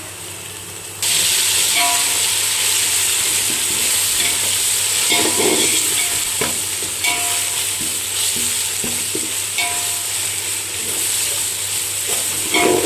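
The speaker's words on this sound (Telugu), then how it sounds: "అల్లం వెల్లుల్లి పచ్చి వాసన పోయేంత వరకు ఇలా వేయించుకోవాలి" Ginger garlic paste fries in a pan of reddened onions for chicken biryani, giving a loud, constant sizzle that starts abruptly and carries on with intermittent stirring scrapes and clinks, no voices.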